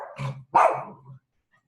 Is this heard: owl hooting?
no